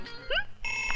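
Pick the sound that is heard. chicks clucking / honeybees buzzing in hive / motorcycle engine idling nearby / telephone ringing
telephone ringing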